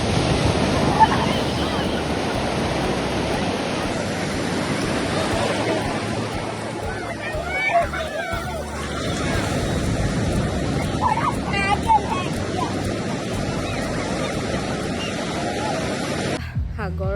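Ocean surf rolls steadily onto Radhanagar Beach on Havelock Island in the Andamans, a continuous broad wash of breaking waves mixed with wind buffeting the microphone, with faint voices in the background.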